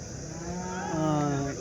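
A single cow at a cattle market in Chintamani lets out a long, low moo that swells and fades, fairly close, with no one talking.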